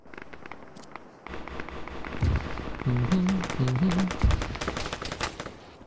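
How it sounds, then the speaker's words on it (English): Gunfire crackles in the video game Arma during an urban operation, with scattered sharp shots and bursts, some near and some distant, behind soft game ambience and a few beeping radio tones. "Shots west-northwest."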